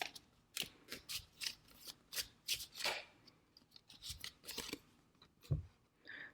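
Quick, crisp riffling and snapping bursts of tarot cards being shuffled repeat in an uneven rhythm, close by, like cards being shuffled and bridged on a tabletop.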